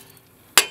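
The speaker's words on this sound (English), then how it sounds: "So just hammer your pickle fork" A single sharp metallic strike of a hammer on a pickle fork driven in to separate a front ball joint on a 2002 Honda CR-V, loud and close after a quiet pause, with a ringing clink as it decays.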